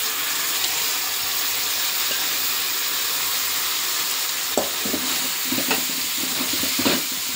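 Ridge gourd frying in a pan with green chilli and browned onion, a continuous close sizzle with a few clattering stirs and scrapes near the end, no voices.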